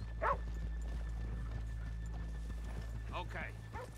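Horse hooves clop softly over a low steady rumble, with a couple of brief whinnies and snorts, in the video game Red Dead Redemption 2.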